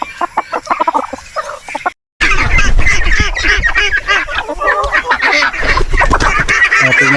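Hungry farm geese honk and cackle loudly at close range, a dense overlapping chorus of calls with a brief silent break before the noisy flock resumes.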